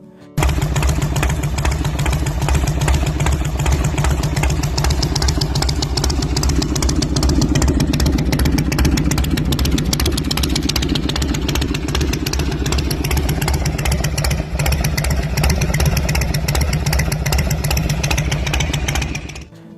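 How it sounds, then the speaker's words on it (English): A 1974 Harley-Davidson Ironhead motorcycle engine runs steadily and loudly close by, with a deep, rough, throbbing idle that continues without a break for nearly twenty seconds before cutting off. "This 1974 Harley-Davidson Ironhead is true old-school attitude. Raw, loud, simple, and built for riders who appreciate vintage Harley character."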